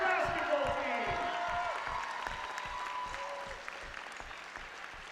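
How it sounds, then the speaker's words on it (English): Crowd applause with scattered whoops and cheers in a high school gym honoring a girls senior basketball team before a game, steady clapping that gradually tapers, with a public-address voice ringing over it. "How about another nice round of applause for the"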